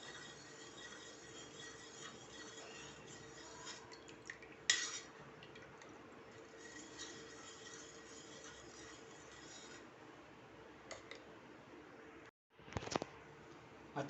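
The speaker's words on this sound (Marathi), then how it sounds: "रोज सिरप घालून घेऊया. रोज सिरप पण आपल्याला मार्केटमध्ये अवेलेबल आहे. व्यवस्थित असं आपण एकदा ढवळून घेऊया" A utensil stirs milk with rose syrup in a container, giving faint, soft scraping and swishing with occasional light clinks, quiet throughout with a brief gap near the end.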